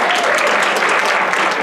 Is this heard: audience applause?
yes